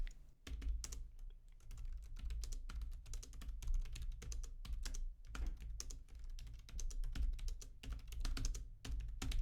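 Rapid, continuous clatter of a computer keyboard as Lua code is typed, close and even-paced with dense key strikes and brief gaps, no voices.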